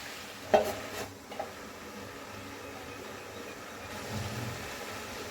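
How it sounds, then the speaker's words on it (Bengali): Jackfruit and prawns cook in a covered pot with a soft, continuous sizzle, broken early by a few sharp metallic clanks from the pot or a utensil. "আরও কিছুক্ষণ আমি ঢেকে রান্না করব।"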